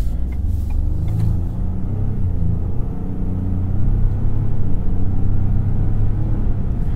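A 2021 Ford F-150 Hybrid pickup with the 3.5-liter EcoBoost V6 pulls hard under acceleration, a deep, loud, steady engine rumble heard from inside the cab that grows slightly stronger toward the end.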